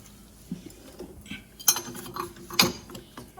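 A ratchet wrench clicks in irregular bursts while tightening a nut on a minivan's trailing arm bushing, with sharp metallic clacks standing out, close by and fairly quiet overall.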